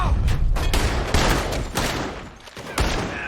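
Rapid bursts of gunfire from a shootout in Red Dead Redemption 2, a dense volley of loud, close shots cracking one after another with brief lulls, over a low rumble of background noise.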